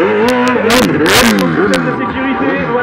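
A quad bike fitted with a Yamaha R1 engine revs hard and high, its whine rising and falling continuously, while someone talks over it.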